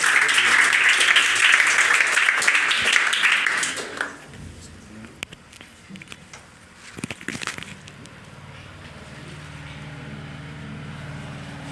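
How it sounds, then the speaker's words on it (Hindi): Audience applause welcoming students at a coaching academy results event, a burst of dense clapping for about four seconds that stops abruptly, followed by scattered knocks, brief voices and a low hum. "तो एक बार तालियों के साथ स्वागत करें।"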